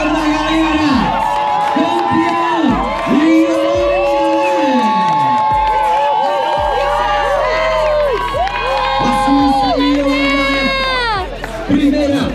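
A crowd at the finish of an elite cross-country mountain bike World Cup race cheers and whoops loudly and continuously, with noisemakers or horns sounding repeatedly throughout.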